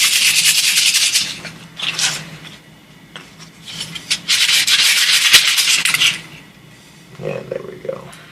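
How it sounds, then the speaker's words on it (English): Sandpaper rubbing the nubs near the handle of a wooden wand, loud raspy strokes in long sweeps with brief pauses, close up and alone. "The nubs by the handle don't need to be sanded off too much,"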